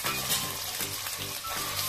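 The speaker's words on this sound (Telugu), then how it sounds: "ఫ్రై అయిందండి అల్లం వెల్లుల్లి పేస్ట్" Ginger garlic paste sizzles briskly in a pan, a dense close crackle running without break through the short stretch with faint stirring underneath.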